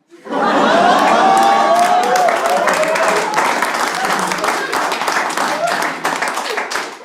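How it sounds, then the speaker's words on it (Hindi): Comedy show audience in Noida clapping and cheering, a dense, sustained burst of applause filling the room from start to finish, with crowd shouts mixed in. "ये नोएडा की जनता है जो ताली मार रही है।"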